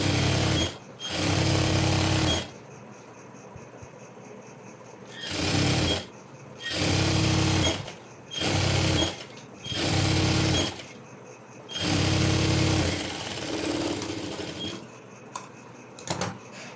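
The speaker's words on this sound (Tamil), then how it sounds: "டபுள் ஸ்டிச் கொடுத்தாச்சு" Sewing machine running a double stitch on a maxi dress: six loud, close bursts of rapid mechanical whirring, each one to two seconds long, separated by short pauses.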